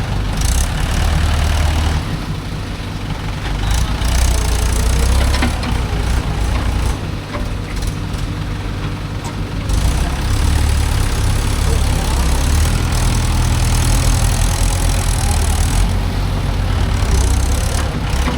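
A Mahindra 415 DI tractor drives along on the way to a soil-loading job, its diesel engine giving a loud, steady low rumble that holds throughout with slight swells in level.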